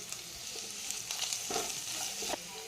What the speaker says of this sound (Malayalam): ഈ ബട്ടറിലൊന്ന് ചിക്കൻ വേവിച്ചെടുക്കാം